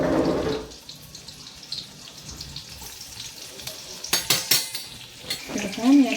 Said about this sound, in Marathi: आता मी हिरव्या मिरच्या टाकते, त्यामध्ये हिरव्या मिरच्या चांगल्या परतून द्यायच्या।